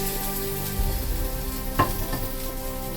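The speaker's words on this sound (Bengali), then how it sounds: "আমি না এই মাছ ভাজার তেলটা দিয়ে দেব, নষ্ট করব না। এই তেলটা দিয়ে দিই" Oil left over from frying fish sizzles steadily in a wok on the stove, a continuous close crackle with a brief louder spatter midway and no talking.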